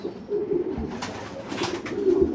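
A yearling racing pigeon cock coos softly in a loft, a couple of low throaty coos over faint background rustling, close but quiet.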